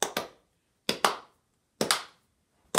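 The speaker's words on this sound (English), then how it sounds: "I'm going to have you clap back exactly what you hear" An adult beginner in a music lesson claps a short rhythm three times: pairs of sharp, close hand claps separated by pauses, with no talking.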